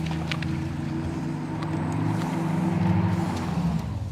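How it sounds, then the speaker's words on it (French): A steady, humming electric motor drone with a low tonal whine, the real motor sound amplified through the car's speakers, continuous and fairly loud, heard from inside the electric car. "c'est le vrai son des moteurs électriques, mais qui est amplifié et qui passe par les haut-parleurs"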